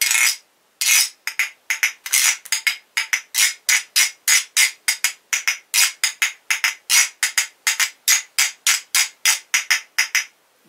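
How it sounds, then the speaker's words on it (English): Shells scraped against each other as a friction percussion instrument, producing a steady, rhythmic series of dry, rasping strokes, close and clear, with short gaps between each scrape and no talking. "Someone gave me these shells a while ago because they sound really cool."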